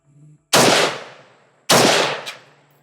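An AK rifle fitted with a flash hider fires two loud, close single shots about a second apart, each with a sharp crack and a long, fading outdoor echo.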